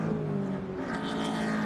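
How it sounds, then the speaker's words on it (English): A turbocharged Lotus Elise race car at a track event sweeps past with a loud, steady engine drone and a rising whistle, close by throughout the brief moment. "turbo car whistles past us"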